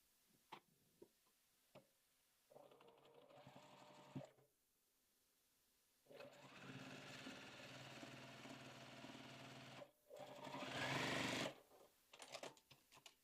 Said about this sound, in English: We're just going to sew our flower onto the top of our leaves and stem.